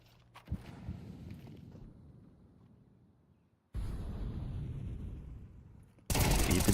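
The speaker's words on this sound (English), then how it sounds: "Shots across, you just can hear the nades popping." Grenades popping and gunfire in a competitive video game match, a burst of sharp shots and pops followed by a sustained rumbling barrage, then a sudden loud blast at the end.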